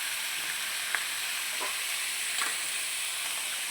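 Food sizzles in hot oil in a wok as it is stirred, a steady loud frying hiss with a few faint scrapes of the utensil against the pan.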